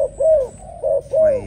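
A Malaysian trần dove used as a decoy coos in three deep, resonant phrases, each a rising-and-falling hoot with short gaps between, close and clear against a quiet background.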